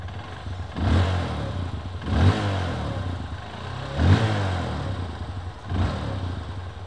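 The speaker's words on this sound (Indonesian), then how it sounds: "Langsung kita nyalain ya untuk dengerin suara mesin ini." Honda CRF 150L motorcycle engine started and running, with a steady close idle broken by four brief throttle revs spaced a couple of seconds apart.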